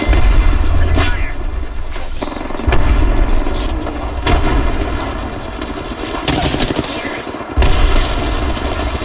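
Sustained gunfire and explosions in an Apex Legends competitive match, continuous dense bursts of shots with heavier booms layered throughout, under brief voice callouts from the game.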